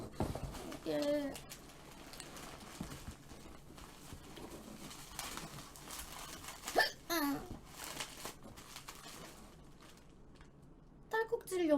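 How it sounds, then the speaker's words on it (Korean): A girl hiccups repeatedly in sharp, scattered bursts over a noisy indoor background, with some talk and laughter mixed in between the hiccups. "딸꾹질을 연속으로 100번 하면 죽는다고?"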